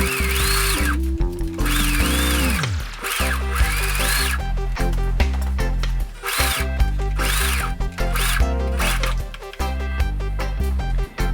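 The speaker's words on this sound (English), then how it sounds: "What I'm going to do is just use my serger, and I'm going to go in and finish the raw edges off" A serger sews along raw fabric edges of a maxi dress with a loud, continuous motor whine that shifts pitch as it speeds up and slows, with brief stops between runs.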